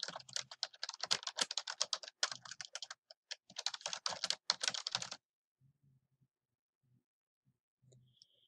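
Rapid, close keystrokes on a computer keyboard entering a subtitle in a presentation slide, a dense run of clicks for about five seconds, then near silence with a few faint thumps.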